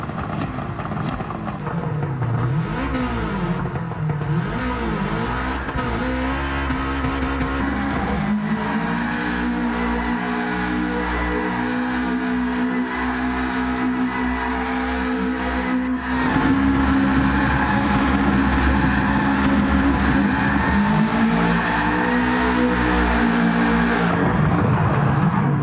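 A Subaru race car in Gran Turismo 7 revs hard around a track, its engine note climbing and dropping through gear changes and corners, loud and continuous with no talk.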